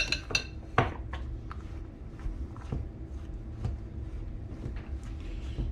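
Keto muffin ingredients are stirred together in a bowl, giving close scraping and clinking of a utensil against the dish with a few sharper knocks, steady and unhurried.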